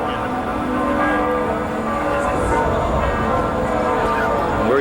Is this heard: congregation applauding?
no